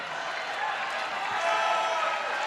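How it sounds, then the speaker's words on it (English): A local crowd roars and cheers at a 2019 European beach volleyball finals match, a steady, dense wash of noise that swells slightly toward the end. "Roars and cheers from the local crowd."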